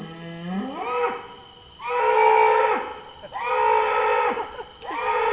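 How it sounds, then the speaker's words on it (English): A big bull bellows at a night camp in Cape York, Australia: three long, loud, drawn-out calls that rise and fall close by, over a steady high-pitched whine in the background. "I have never heard a cow making a noise like that"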